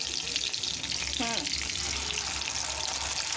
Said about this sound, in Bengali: টক দইটাও ভালো করে আমি ভেজে নেব